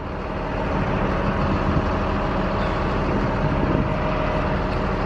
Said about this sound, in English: I got a Kroger vehicle coming